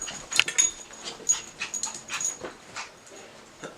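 A pet dog whimpers and pants close by in a series of short, high, breathy whines and huffs spaced irregularly, with no talking.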